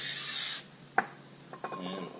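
Film is wiped off a new brake rotor on a 1979 C3 Corvette: a short burst of steady hiss gives way to faint rubbing strokes and a couple of small knocks, close and quiet.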